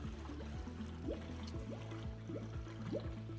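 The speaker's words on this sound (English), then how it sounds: "we can hear the bubbles as the water goes down into the cylinder" Water drains into the cylinder of an Electro Freeze CS-700 soft-serve machine during flushing, gurgling with a run of rising bubble glugs as air escapes, close and moderately quiet.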